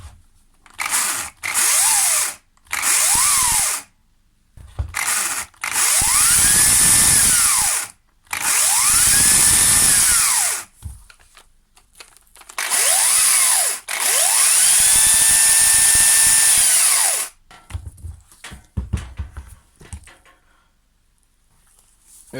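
A Makita DUC254Z cordless chainsaw converted to 1/4 inch pitch is test run in a series of loud, whining bursts of varying length, revving up and down with short pauses between them.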